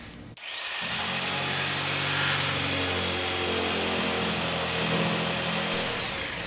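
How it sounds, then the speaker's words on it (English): A jigsaw or saber saw cuts along a marked line through a door panel for a Dutch door, a steady loud buzzing drone that starts abruptly and holds for several seconds, close by and with no talking. "you can either use a jigsaw or a saber saw in order to cut around your dotted line"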